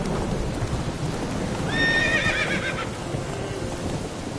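A horse in a PS4 video game gives a clear, mid-length whinny over steady rain and game ambience, with hoof clip-clops and distant thunder in the background.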